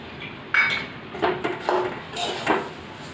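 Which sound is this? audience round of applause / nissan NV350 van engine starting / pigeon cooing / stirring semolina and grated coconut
stirring semolina and grated coconut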